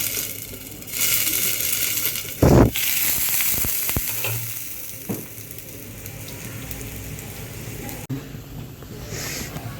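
A mixed-flour thalipeeth roasting in a pan, with a low crackling sizzle punctuated by a loud scraping burst early on and a few sharp clinks, tapering to a quieter sizzle.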